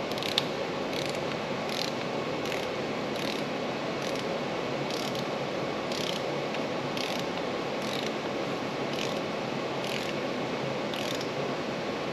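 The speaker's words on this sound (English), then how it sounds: "torque this down to 8 foot-pounds" Torque wrench tightening a tensioner arm bolt, a close rapid ratchet clicking repeated in short regular bursts over a steady background hum.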